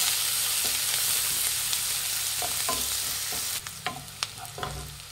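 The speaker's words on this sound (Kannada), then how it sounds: "ಈರುಳ್ಳಿ ಎಲ್ಲ ಚೆನ್ನಾಗಿ ಫ್ರೈ ಆಗಿದೆ." Two medium chopped onions frying in a pan with curry leaves and cinnamon for carrot rice, a soft steady sizzle with occasional spoon scrapes and stirring clicks growing more frequent toward the end.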